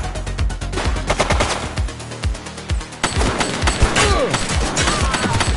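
Rapid bursts of automatic gunfire in the police game The Precinct, loud dense volleys of shots with brief pauses between them and some echoing impacts.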